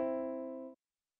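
A pair of notes forming a major third, the higher pitch five fourths of the lower, sounding together as a steady sustained tone for under a second and then cutting off abruptly, with no voices.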